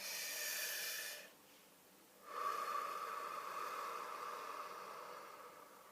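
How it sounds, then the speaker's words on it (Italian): A single deep breath drawn in slowly through the nose, then a pause and a long, steady exhale, close up with no talk. "facciamo un bel respiro profondo"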